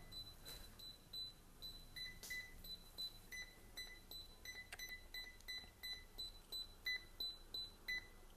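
Raspberry Pi motion detector sounding repeated short electronic beeps, alternating low and high tones in a steady pattern, faint against a quiet room.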